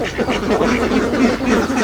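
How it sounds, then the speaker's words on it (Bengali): A flock of ducks on a duck farm quacks continuously and densely, close by and fairly loud, with overlapping calls throughout. "এই হাঁসগুলো"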